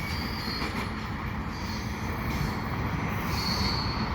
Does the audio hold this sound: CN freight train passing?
yes